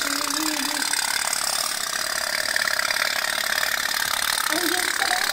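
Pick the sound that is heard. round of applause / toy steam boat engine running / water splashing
toy steam boat engine running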